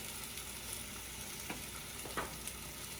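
A roast beef searing in a pan right after being flipped, a faint steady sizzle with a few quiet scrapes and taps, no voices.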